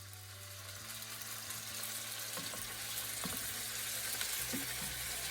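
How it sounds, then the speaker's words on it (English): Salmon frying in a pan with olive oil and butter, a steady soft sizzle running throughout with a few louder spatters and crackles rising near the end. "let's go ahead and cook our salmon"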